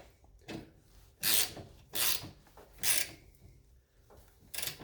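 A ratchet tightens the oil drain plug on an Ariens Deluxe 28 SHO snowblower with a 306cc engine, four or five brief rasping clicks in bursts, close and fairly quiet.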